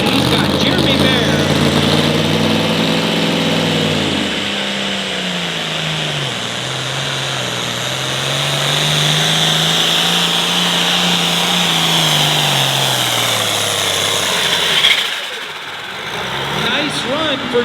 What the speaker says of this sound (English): This is a 466 hot farm tractor, a little bit under fumes for this class